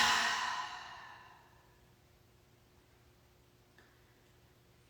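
A group of yoga participants exhales together in one long, soft breath, loud at first and fading over about two seconds into quiet room tone.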